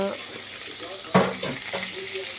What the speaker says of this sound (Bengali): বন্ধু, এই দেখো মাছ ভাজা হচ্ছে।